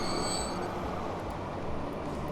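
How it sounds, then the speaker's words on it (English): An electric train from the Transport Fever video game runs steadily, a continuous broadband rumble of wheels and rails with a faint high squeal early on, close and sustained with no talk. "let's get a new nice electric train"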